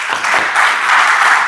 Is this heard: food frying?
no